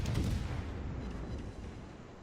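Heavy naval gunfire from a warship in World of Warships: a loud, booming salvo opens the moment, then a rumbling low roar that slowly fades, with no talk.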